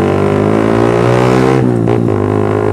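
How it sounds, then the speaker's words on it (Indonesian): A Suzuki Satria fuel-injected motorcycle fitted with a racing exhaust runs with a loud, steady harmonic drone close by, sputtering and wavering briefly partway through rather than pulling cleanly. "Berbetnya kayak gimana bakalan kalian dengerin nih"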